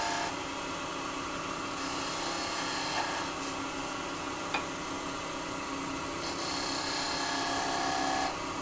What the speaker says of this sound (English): So if I put another little V cut in here,